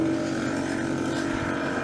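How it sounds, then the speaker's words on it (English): A custom air suspension compressor for a Datsun 1200 airbag setup runs close by, a continuous motor hum and drone with a faint rapid clicking rhythm throughout the short stretch. "We got the airbag compressor going."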